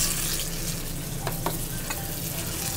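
Roasted green chilies frying in hot oil in a restaurant kitchen pot for a Dashain dish, giving a steady close sizzle with a few brief stirring scrapes, no talk.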